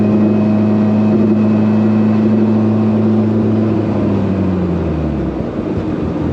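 A car engine holds a loud, steady high-rev drone with harmonic tones from up close, then the pitch drops sharply as the revs fall away near the end.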